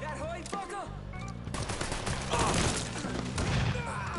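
Dense gunfire in the video game Mafia III: rapid overlapping shots and automatic bursts run loud and continuous from start to finish, with a faint voice mixed underneath.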